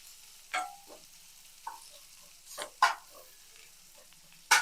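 A potato omelette fries in a pan, heard as a quiet background sizzle broken by several separate scraping and spatula strokes at uneven intervals, close and fairly loud, with no speech.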